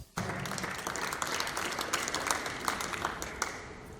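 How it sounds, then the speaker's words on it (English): Steady applause from a crowd, a dense crackle of clapping that starts abruptly and holds evenly throughout. "A round of applause for her."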